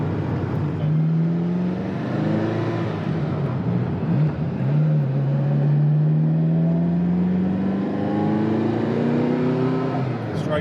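Ferrari F40 accelerating hard on turbo boost, its engine note rising steadily in pitch, dipping at a gear change, then climbing again, loud and close from inside the car.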